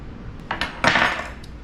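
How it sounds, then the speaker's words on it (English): A spatula spreads Cool Whip across the top of a bar cake and tidies its edges, giving a few soft scrapes and light clinks against the pan, with a brighter swipe in the middle and no talking. "Just take your spatula and clean up the edges as you go."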